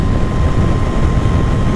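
A Royal Enfield motorcycle engine pulls hard under acceleration on a road ride, a loud, dense, continuous roar close by with no talking.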